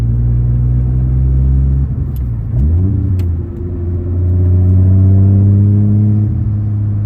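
A Nissan Skyline R32 GT-R engine drones loudly from inside the car while driving, with a dip and rising pitch as it shifts gears, then settles into a steady, close cruising rumble.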